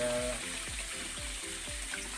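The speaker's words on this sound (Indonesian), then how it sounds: "Ini adalah keran untuk mengisi air ke kolam biar" Water running from a garden tap into a pond, a steady close splashing stream heard alone with faint rhythmic thumps underneath.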